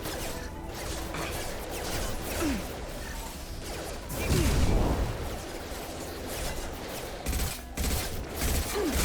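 Gunfire aimed at the player in Mass Effect 2 combat: rapid bursts of shots with whooshing projectiles and impacts, fairly loud and irregular, with a heavier blast near the middle and more volleys toward the end.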